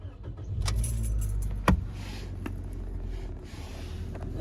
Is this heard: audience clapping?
no